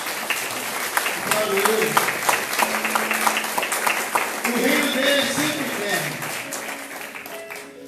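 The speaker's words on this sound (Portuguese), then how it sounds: "Você pode aplaudir o nome de Jesus?" A church congregation claps through a worship service, the applause steady and dense beneath a preacher's amplified voice and congregants calling out in response.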